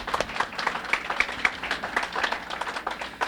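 An audience at a bursary awards ceremony claps steadily, a dense patter of many hands at moderate distance, fairly even throughout with no speech over it.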